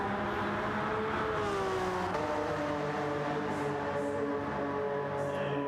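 A Honda racing car in the Gran Turismo racing game drones on a steady engine tone, with pitch shifts as it downshifts to enter a turn, sustained and fairly loud throughout.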